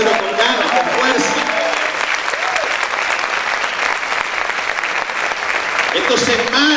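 Loud, sustained applause from a church congregation, with many people clapping in a thick continuous wash and a few voices rising faintly through it.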